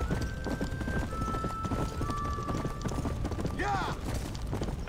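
Rhythmic clip-clop of horse hooves in the video game Red Dead Redemption: Undead Nightmare, steady and close, with a short whinny near the end and a voice talking over it.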